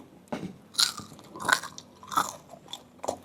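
Fried sun-dried pork being bitten and chewed close up, a run of five loud crunchy bites spaced about every two-thirds of a second with quieter chewing between.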